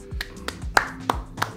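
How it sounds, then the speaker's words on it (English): A rowing coach's hands clap a few times, sharp separate claps spaced irregularly against a quiet background. "just another round of applause"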